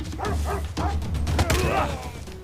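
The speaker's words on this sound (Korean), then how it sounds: "강아지 옆에서 짖기만 하는 거봐" Dog barking from the Civilization 6 strategy game, a few quick yipping barks and whimpers in a short burst, close and fairly loud, with some voices in the background.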